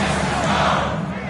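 Crowd cheers in an NBA 2K basketball game, a dense, steady roar of arena noise filling the whole moment at close, loud level.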